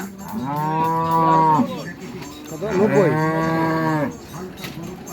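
Two long, loud cow moos, one after the other, close by at a village cattle market in Keraniganj, Bangladesh, with a few words spoken faintly in the background.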